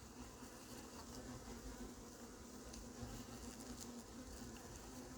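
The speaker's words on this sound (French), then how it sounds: "Il est assez nerveux le frelon en haut là." A hornet buzzing near a bottle trap at an apiary, a steady faint drone that hums on without a break, close by but quiet against a soft outdoor background.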